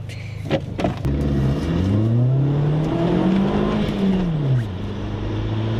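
A car engine fitted with a dump valve revs up close, its pitch rising and falling as it accelerates, after a few sharp bursts at the start.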